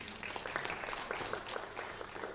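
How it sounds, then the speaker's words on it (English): A conference audience applauds a speaker in a steady, faint stretch of clapping that holds evenly throughout, heard from some distance. "Big round of applause for Dr. Bunwara."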